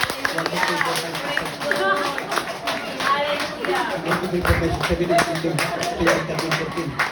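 A church congregation claps during a service, a steady stream of many hands clapping with voices talking and calling out over it.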